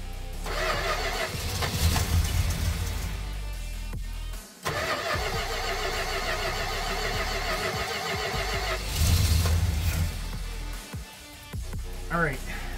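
A 1967 Dodge Dart V8 with a newly fitted 4-barrel carburetor and no choke cranks, then catches and runs rough, its engine surging and dipping before cutting out and briefly restarting, close by.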